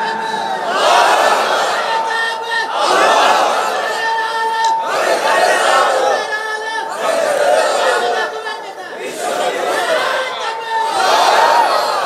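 A crowd at a Bangladeshi Islamic women's sermon (waz) shouts the takbir response in repeated loud collective bursts, roughly every two seconds, with a voice leading between the chants.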